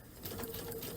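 A domestic sewing machine makes a short, soft, close whirring burst while sewing a stitch-in-place row on a spring pillow project.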